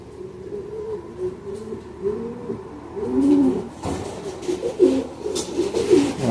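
A pigeon cooing close by at a pigeon show, soft repeated low throaty coos in a steady murmur over faint background noise.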